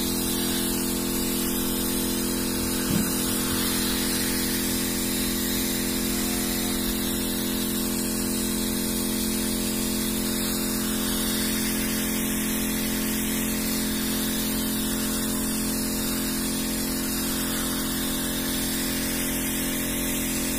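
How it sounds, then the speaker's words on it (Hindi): A light, fine water spray mists a papaya nursery, giving a steady, even hiss that runs unbroken throughout with no talking. "देखिए इस तरीके से होना चाहिए, हल्का स्प्रे वाला फुहारा।"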